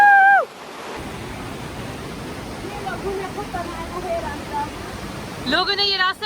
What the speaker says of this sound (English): Mini waterfall.